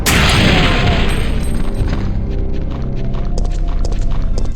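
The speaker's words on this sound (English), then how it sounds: "Like when it gives you some explosive barrels to shoot." An explosive barrel in the Resident Evil video game bursts in a loud, close boom, followed by a rumbling tail and scattered crackling debris that slowly fades.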